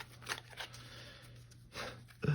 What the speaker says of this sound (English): So I'll shuffle seated, and then I'll get up to talk about them again.